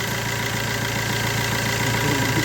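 A car engine with a suspected piston or piston ring fault idles steadily and close up, giving a continuous low drone with a faint knocking texture and no talk.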